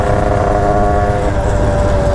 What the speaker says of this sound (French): Le moteur il crie.